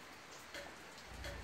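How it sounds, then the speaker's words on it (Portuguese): Steady rain falls on a ranch on a foggy day, a constant close hiss of drops with a slightly heavier patter toward the end, and no voices. "Bom, e aqui a chuva"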